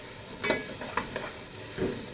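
Onion frying in a pan gives a faint, soft sizzle underneath a few light scraping stir strokes, close by and quiet, with no talking.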